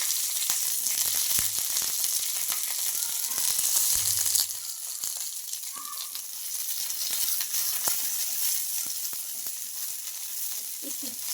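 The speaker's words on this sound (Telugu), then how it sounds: "ఈ పచ్చిమిర్చి ఒక నిమిషం పాటు వేయించుకుందాం" Green chillies fry in hot oil in a kadai, a loud close crackling sizzle that drops to a softer hiss partway through, with scattered pops and light clicks of a spatula throughout.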